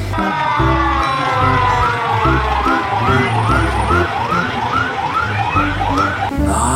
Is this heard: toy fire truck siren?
yes